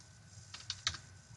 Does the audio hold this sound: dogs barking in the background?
no